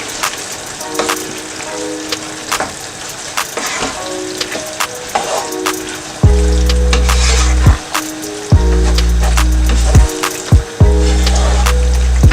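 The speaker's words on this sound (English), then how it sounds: "I'm going to allow it to simmer for 1 minute" Meat pie filling thickened with cornflour simmers in a pan, giving a steady close bubbling sizzle with scattered pops and clicks, joined later by a loud repeating low hum from the stove or a nearby appliance.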